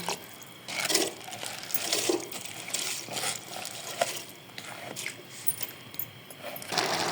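Rice being poured into a pot of cooked, softened potatoes: scattered grains patter and clink against metal with small liquid splashes, in uneven bursts close up, with no talking.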